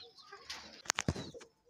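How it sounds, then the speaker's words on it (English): Pigeons in a small urban farm enclosure in Kampala, Uganda give a short, soft coo with a brief flutter or rustle in the middle, close and low in level. "And up here we have our pigeons."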